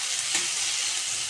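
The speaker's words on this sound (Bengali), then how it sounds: "পেঁয়াজটা একটু হালকা করে লাল করে নেব" Sliced onion frying in oil until lightly browned, a steady close sizzle with one faint clink partway through and no voices.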